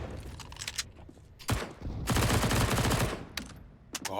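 Counter-Strike match gunfire from a Krieg rifle: loud bursts of rapid shots, one long sustained volley in the middle, with sharp single cracks at the start and end.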